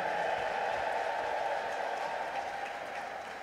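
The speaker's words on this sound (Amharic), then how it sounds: "ለጌታ እልልታ ያላችሁ ሰዎች እልልታ።" A church congregation at a prophet's service ululates in praise, a dense, sustained wall of high trilling voices that stays loud throughout and fades slightly toward the end.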